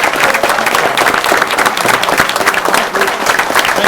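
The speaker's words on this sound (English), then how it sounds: "Please give a round of applause for Rob." Audience at a police chief's acceptance ceremony applauds warmly, a loud, continuous crackle of many hands clapping that holds steady for several seconds.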